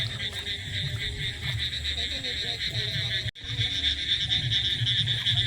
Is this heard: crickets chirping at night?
yes